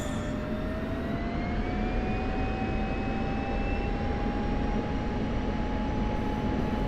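An F-16 jet engine in the DCS flight simulator spools up for takeoff, a loud, steady roar with whining tones that climb slowly in pitch and then hold, alone with no talk.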